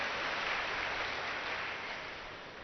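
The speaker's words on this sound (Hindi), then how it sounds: "कोई बात नहीं, इनके लिए भी ताली बजाइए" An audience at a spiritual talk claps together in a dense, steady patter of applause that gradually thins and fades toward the end.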